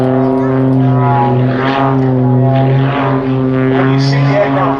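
A propeller aerobatic aircraft at an air show over Duxford drones loudly and steadily as it pulls through a loop, its engine tone holding strong throughout.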